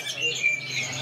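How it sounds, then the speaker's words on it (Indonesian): Adult rosy starlings at a bird market stall chirp in thin, high calls that run continuously over the stall's background noise. "ini ada yang namanya burung jalak. Jalak mawar."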